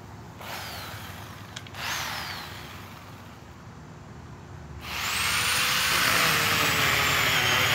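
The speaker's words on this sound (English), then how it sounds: "Thank goodness for this portable trimmer here," Portable electric trimmer cutting up a tree, whining in short bursts that build into a long steady, loud run near the end, with no one talking.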